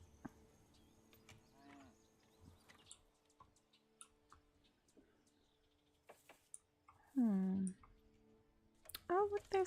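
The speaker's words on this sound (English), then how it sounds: "It's the goat." A goat in the Manor Lords medieval settlement game gives a loud, wavering bleat, then a shorter one a couple of seconds later. Faint ticking, clicking and other quiet village sounds fill the time before the bleats.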